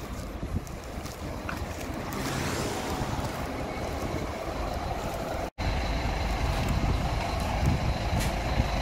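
A bus engine rumbles steadily at a stop, a loud, continuous low drone with broadband street noise and a few faint higher tones, and no voices.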